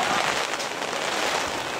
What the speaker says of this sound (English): And the rain is back again.